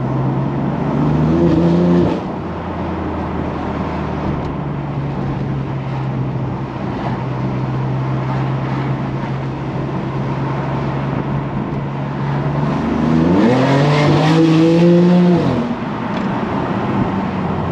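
A BMW M4 on the street, heard from inside: a steady engine drone gives way to a loud, rising rev as the car accelerates hard, then eases off.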